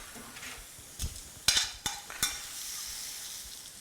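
Spinach cooks in a pan with a soft sizzle, and a few sharp stirring and scraping clicks from a utensil come near the middle.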